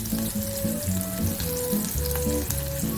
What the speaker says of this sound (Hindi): ये देखिए ज़बरदस्त जो है ये क्रैकल कर रही हैं, मिर्चें भी, लहसुन भी